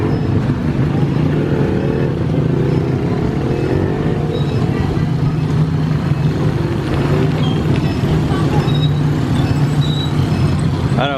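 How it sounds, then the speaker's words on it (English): Heavy street traffic jam in the Philippines, a steady loud rumble of idling and creeping cars, buses and motorcycles, with occasional engine revs and faint horn-like tones throughout. "Major traffic jam."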